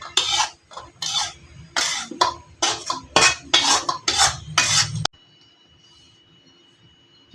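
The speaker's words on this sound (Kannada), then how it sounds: "ಇದು ಸಕ್ಕರೆ ಈ ಥರ ಚೆನ್ನಾಗಿ ಮಿಕ್ಸ್ ಮಾಡ್ಕೊಳ್ಬೇಕು." A besan laddoo mixture with sugar is pressed and mixed in a bowl, producing about five seconds of steady, rhythmic scraping strokes up close, then quiet.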